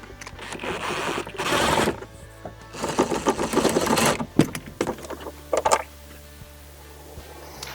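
A plastic bolt on a 2018+ Jeep Wrangler JL taillight is backed out with a 10mm socket or T40 Torx bit, producing bursts of rapid ratcheting whirr with clicks and handling knocks between them, close up.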